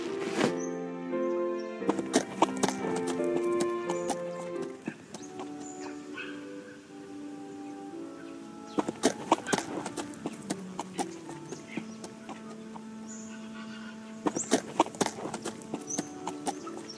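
Horse hooves clip-clop in a Jane Austen mystery video game, with sharp irregular hoof clatters in bursts over a soft musical score, some louder and closer than others.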